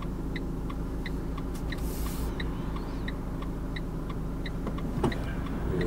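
Steady road traffic rumble from cars passing a driving-school car waiting at a junction in Strasbourg, a continuous engine drone with light ticking clicks and a slightly louder pass near the end.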